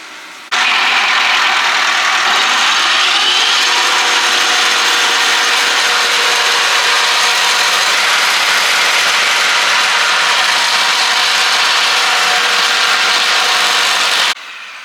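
Stump grinder chewing through old tree stumps in a DIY job, a loud, steady mechanical grinding and engine drone that runs without a break for the whole stretch.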